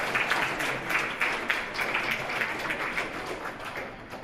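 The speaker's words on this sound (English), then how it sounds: "Give them a round of applause as they take their seats." Studio audience clapping for quiz show contestants, a fairly close, steady patter of many hands with individual claps standing out, continuing evenly throughout without talk.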